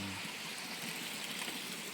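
Water from a forest waterfall in Thailand rushes in a steady, even roar that fills the whole clip, with no voices.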